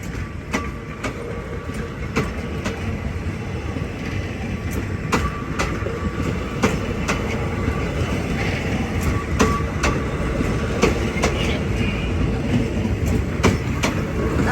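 A steam locomotive train rumbles steadily past at close range in Thailand, with sharp rhythmic clacks of wheels over rail joints repeating throughout.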